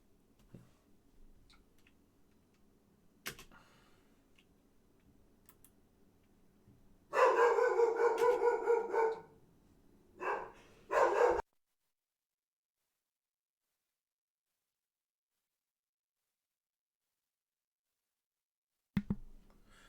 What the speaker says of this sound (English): Apologies for the dog noises.